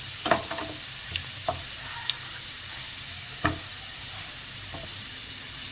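Onions sizzle softly in a pan as they turn light brown, a low steady hiss broken by a few sharp clicks and knocks from stirring, with no voices.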